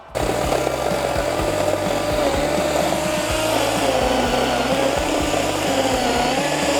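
A Litheli cordless saw running off a power bank cuts into a dry, seasoned stump, its motor a loud, steady whine throughout, with a rapid, rhythmic chattering of the chain biting into the wood.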